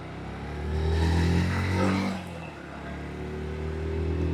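A Yamaha FZS V5 Hybrid motorcycle engine revs up and settles, its exhaust swelling to a throaty peak then easing back to a steady low idle, close by.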